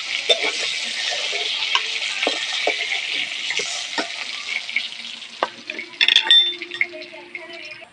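Hilsa fish heads sizzling in hot oil in a pan, a dense bright close crackle with intermittent spatula scrapes and a few clinks toward the end; no talking.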